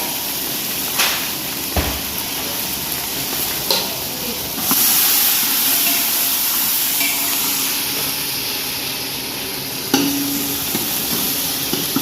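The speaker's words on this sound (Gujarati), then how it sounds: "કઢી વઘારી લઈશું. આખો મસાલો નાખશું." Whole spices such as cinnamon, cloves, fenugreek and mustard seeds sizzle in hot oil to temper a sweet white kadhi, giving a steady close hiss with a few sharp crackles and pops.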